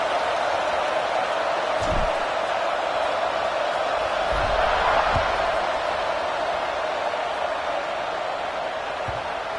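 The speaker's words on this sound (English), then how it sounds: "this crowd is buzzing after that last score" A college football stadium crowd buzzes after a score, a broad, steady roar of distant voices with a few faint thumps and a commentator talking over it.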